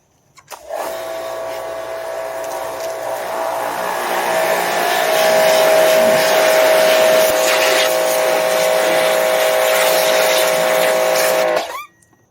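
A Husqvarna 2000 PSI electric pressure washer spraying through a 0-degree nozzle: a close, loud, steady motor whine with a high tonal hum that starts abruptly, holds for about eleven seconds, then cuts off.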